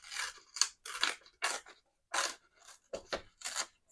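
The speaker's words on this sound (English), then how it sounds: "I think I wanna just tear it like" A scrap sheet of paper torn by hand for a layered journal, close, crisp ripping in several short bursts with brief pauses between them.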